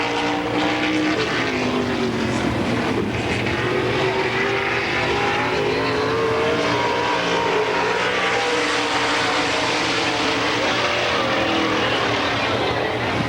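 Rodney Phillips' 1P hot rod from Punxsutawney roars around a dirt track on a qualifying lap at the 2002 Pittsburgher 100, a loud, continuous engine howl that rises and falls in pitch through the turns.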